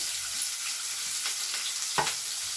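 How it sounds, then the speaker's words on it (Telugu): Steady, dense sizzling of chopped onions in hot tempering oil, with a couple of brief stirring scrapes near the end. "పోపు వేగిపోయిందండి కట్ చేసి పెట్టుకుని ఉల్లిపాయ ముక్కలు వేసుకుందాం"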